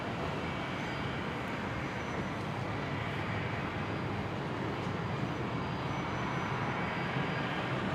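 An airliner taxis at Brisbane International Airport on its long route from the international terminal toward runway 19 right, heard as a distant, steady jet engine roar that holds constant throughout.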